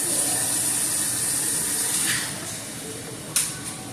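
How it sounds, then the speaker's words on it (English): Hands are washed under a running kitchen tap while cooking lasagna, giving a steady close hiss of flowing water with a brief louder splash near the end. "Let me wash my hands."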